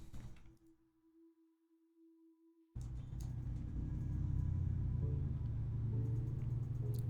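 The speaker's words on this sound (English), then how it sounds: "that was a loud truck" A loud truck passes close by outdoors, starting with a sudden heavy rumble after near silence and building into a sustained deep roar of engine and tyres.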